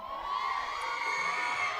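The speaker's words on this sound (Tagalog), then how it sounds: "Meron ba sa inyong kayang sumigaw?" A church congregation at a Sunday worship service shouts and cheers together, a sustained loud crowd roar of many voices with whoops rising over it.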